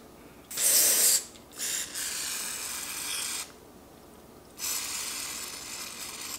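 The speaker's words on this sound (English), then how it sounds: "What you need to do is spray right around your ball bearings." Several bursts of hissing WD-40 aerosol spray onto fidget spinner ball bearings, one short and loud, then longer steady sprays separated by brief pauses, close by.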